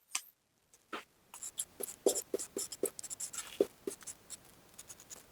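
Chalk or marker scratches and taps across a classroom board in short irregular strokes, close and clear in a quiet room, with no talking.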